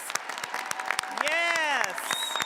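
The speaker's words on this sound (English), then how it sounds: "Let's give another resounding round of applause for our graduates." A commencement crowd honoring graduates breaks into applause, scattered claps with a voice and cheering rising over them, moderately distant in a large hall.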